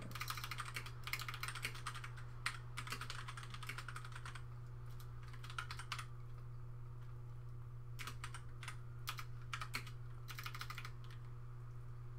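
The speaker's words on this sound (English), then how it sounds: "So I'll just type in 4 hit dice." Quiet computer-keyboard typing comes in irregular bursts of clicks over a steady low electrical hum, close and faint, with pauses between runs of keystrokes while entering numbers into a tabletop role-playing game character generator.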